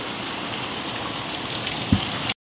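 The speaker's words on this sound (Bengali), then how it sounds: "ঝড় বৃষ্টিটাই তোমাদেরকে শেয়ার করি বসে বসে" Storm rain falling at night during a power cut, a steady soft wash of drops with one brief louder knock near the end, continuous and moderately faint with no voices.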